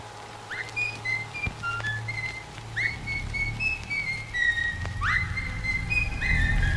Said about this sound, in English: We hear a recording play of some whistling